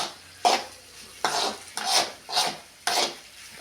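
Okra being sautéed in a pan: five rhythmic rasping scrapes of a spatula or spoon stirring against the pan, evenly spaced and close, with quiet gaps between strokes.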